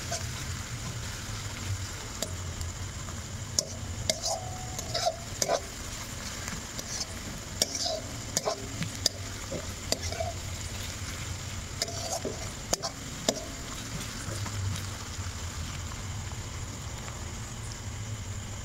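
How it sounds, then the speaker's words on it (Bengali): Onions fry until reddish brown for a potato chicken curry, producing a quiet, continuous sizzle with intermittent stirring clicks and scrapes throughout. "পেঁয়াজগুলো এখন লাল লাল করে একটু ভেজে নেবো।"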